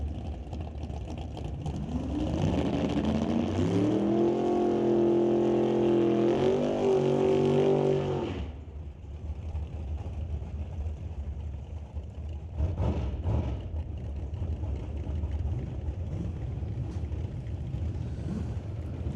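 An NHRA drag race car, a Fox body Mustang, roars loudly and steadily for about eight seconds with a rising, harmonic engine tone, then cuts off, leaving quieter crowd and track ambience.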